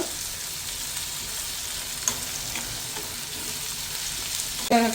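Onions and curry leaves fry in a pan for a Murungakkai mutton gravy, a steady close sizzle with light stirring scrapes and a brief clatter near the end.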